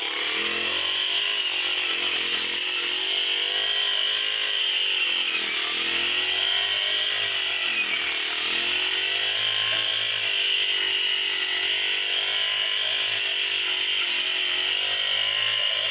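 A crop harvesting machine cutting a field at the end of the harvest season gives off a loud, continuous engine drone with a buzzing, saw-like whine that holds steady throughout.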